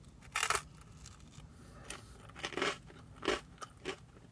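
Crunchy bites into the charred crust of a reheated vegan pizza, several sharp, close crackling bursts with short pauses between them and no talk.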